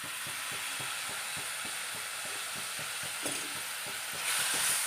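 Soybean fry coated in red chilli sauce is stirred in a pan, giving a dense, continuous sizzle under a regular rhythm of scraping strokes that swells louder near the end, with no talk.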